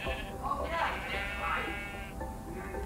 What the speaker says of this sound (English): Gotta get the sheep down here.